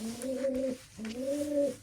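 Domestic pigeons cooing nearby, two soft, low, rolling coos in steady succession, clear and alone at a quiet level.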